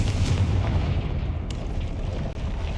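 A Confringo blasting spell explodes in the Hogwarts Legacy video game, a dense rumbling boom that fills the whole stretch with a sharp crackling burst partway through.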